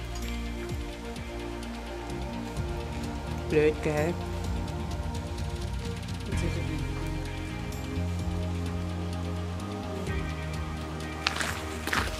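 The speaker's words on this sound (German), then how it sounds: "Jetzt hocken wir an der Wetterschutzhütte und es regnet." Rain falling on a hiking weather shelter along a Swedish trail, a steady pattering wash heard throughout, with a brief spoken remark and some movement noises over it.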